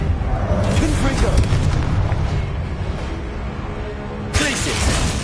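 Confringo explosive spell blasts in Hogwarts Legacy, a loud booming burst early on followed by rumbling, then a second sharp blast near the end, with a voice talking over the action.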